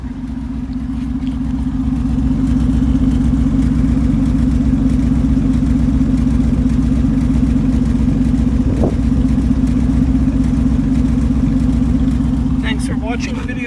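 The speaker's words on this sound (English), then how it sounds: "Since I put the new converter in, there's a little less back pressure, so the magnaflow muffler sounds even more aggressive." A Chevrolet Nova engine idles steadily through a Magnaflow muffler with a new catalytic converter, giving a loud, continuous low exhaust rumble with a brief rise near the end.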